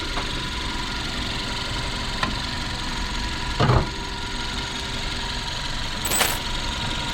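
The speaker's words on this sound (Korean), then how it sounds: "지금 엔진 소리 들리시나요?" A Hyundai Avante MD car engine idles at a steady low rumble, with a couple of brief clicks and a short louder burst partway through.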